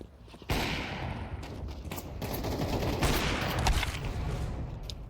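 Gunfire in the video game Counter-Strike 2 sounds as a dense, sustained fusillade of rapid shots, loud and continuous for several seconds after a sudden start.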